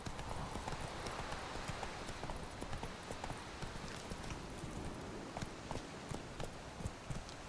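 Hooves of Roach, a horse in The Witcher 3, clatter in a fast, dense run, nearly continuous and close, over a loud rushing backdrop of wind and movement.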